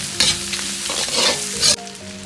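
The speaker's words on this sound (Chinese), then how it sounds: "葱姜蒜片，煸炒出香味。" Scallion, ginger and garlic slices hiss and crackle in hot oil in a wok alongside pork intestines, with loud sizzling and scraping stir strokes before a sudden quieter sputter.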